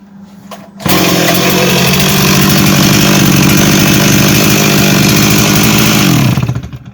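A STIHL MS260 chainsaw engine kicks in abruptly and holds a loud, steady idle drone with a faint, low idle. The drone runs evenly for several seconds before tapering off at the end, with no voices.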